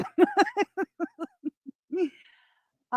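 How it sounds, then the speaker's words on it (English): A series of short, evenly spaced hooting calls that grow fainter and then stop, followed by a brief warbling call, close and clear against silence. "can you hear the birds, Beth?"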